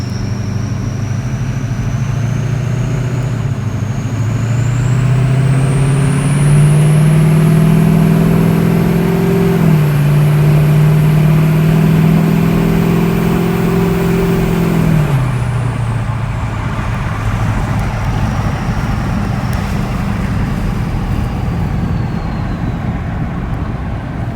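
A truck with a built 6.0 Powerstroke diesel engine on its first drive, loud and close, revving up through rising pitch, holding, then easing back to a steady lower rumble.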